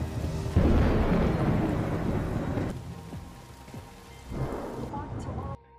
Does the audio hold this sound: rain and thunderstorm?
yes